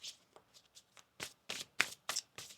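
Quiet, close tarot card shuffling: a series of soft riffling bursts in an uneven rhythm, growing slightly louder toward the end.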